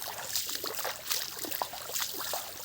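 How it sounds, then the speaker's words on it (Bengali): Water trickling and splashing down a hillside waterfall, a steady broadband wash with small irregular splashes, moderately close and without voices. "পাহাড় থেকে পানি গেমে গেমে পড়তেছে"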